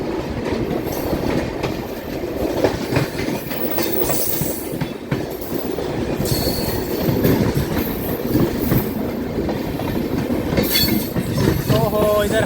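The Lichchavi Express, train 14005, runs along the track with a loud, continuous rumble and rattle of carriages, rhythmic clickety-clack and occasional thin wheel squeals, heard from on board.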